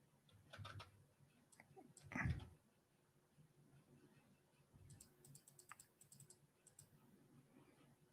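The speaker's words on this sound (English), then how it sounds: "I'm tired of typing." Fingers type on a computer keyboard, producing quiet, close clicking in short irregular bursts with pauses between them and a faint background hum.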